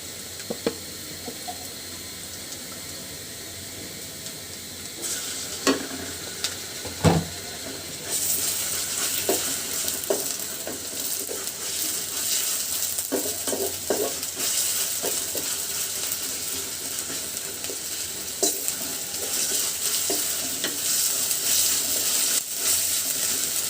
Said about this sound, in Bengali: তো এর ভিতরে দিয়ে দিচ্ছি এখন রসুন বাটা